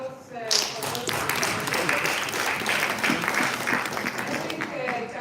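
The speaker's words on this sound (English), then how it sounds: "A round of applause for those." Applause from an audience at a live event with speeches, a loud, dense burst of clapping that starts abruptly and keeps going steadily, close and full.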